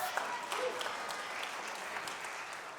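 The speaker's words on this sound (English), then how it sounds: "Let's give Charlie a round of applause." An audience at a State of the Schools address applauds Charlie, steady moderate clapping from a crowd with a faint voice mixed in briefly.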